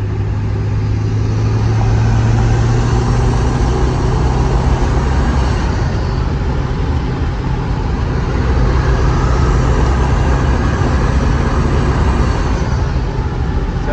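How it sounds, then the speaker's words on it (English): Diesel engine of a 2002 Ford F-350 truck with the 7.3 Powerstroke, turbo spooling while driving: a steady, loud drone with a high whine riding over the engine rumble, continuous throughout with no talking. "you guys can hear that turbo"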